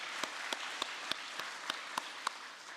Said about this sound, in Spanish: extendamos nuestra profunda gratitud y honremos a la Madre Verdadera con un estruendoso aplauso por esta asombrosa victoria